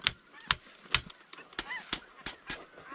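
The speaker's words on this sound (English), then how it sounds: "These are snow geese, guys." Snow geese give a quick run of sharp, repeated honks in an uneven rhythm at an early-season goose hunt. The calls are fairly close and clear, with no talk.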